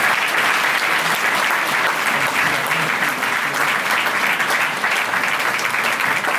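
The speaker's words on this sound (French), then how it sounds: "on peut les applaudir aussi" Loud, dense applause from an audience honouring volunteers at a New Year's wishes ceremony, continuous and steady throughout with no break.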